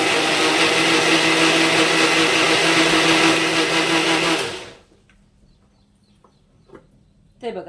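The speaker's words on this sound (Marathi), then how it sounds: "मिक्सरमधून आपण याला फिरवून घेऊया" A mixer grinder blending a semolina and yogurt batter runs as a loud, steady whir for about four seconds, then winds down into near silence, followed by faint handling clatter.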